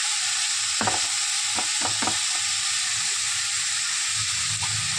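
A paratha fries on a hot tawa with a steady, close sizzle and hiss, broken by a few faint knocks from stirring or handling, and no talking.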